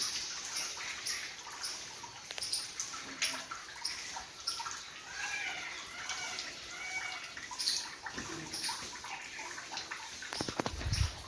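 Water trickles and drips steadily inside a cave at the Jariyavala Mahadev temple near Chotila, a faint continuous patter with occasional sharper drops, quiet and close, with no voices.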